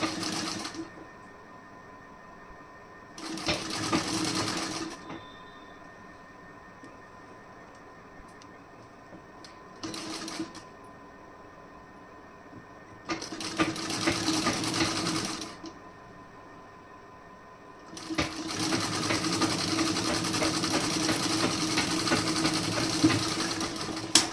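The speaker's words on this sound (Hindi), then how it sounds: "अब इसे भी आप इस तरीके से कच्ची सिलाई लगा दीजिए।" A sewing machine runs a basting seam along a folded edge of a plain blouse, in several separate bursts of steady whirring stitching with quiet pauses between them and a longer final run; no one speaks.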